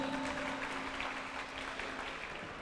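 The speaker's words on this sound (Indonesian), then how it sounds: "tepuk tangan dong untuk ketiga penanya kita" A live studio audience at a radio dialogue event applauds the questioners, a faint, steady, distant wash of clapping with a low hum underneath.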